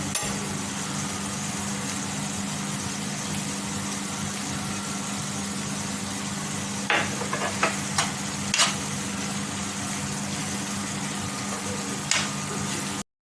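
Curry leaves sizzle and crackle in a pan of softened tomatoes for a Kerala prawn roast, a steady frying hiss with a few sharp pops and stirring scrapes.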